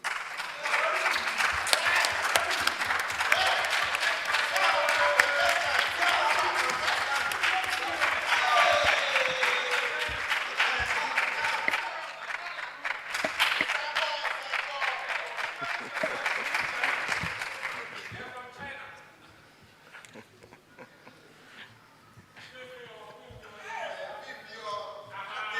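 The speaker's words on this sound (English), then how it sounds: "Ladies and gentlemen, with a round of applause, join me to welcome the contestants from UEW." Audience applause welcoming university contestants at a live business quiz competition, loud dense clapping with cheers for about eighteen seconds, then thinning to scattered claps and talking.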